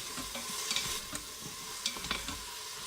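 Finely diced onions sautéing in an Instant Pot, a faint sizzle with a few soft scraping stirs of a utensil, no voices.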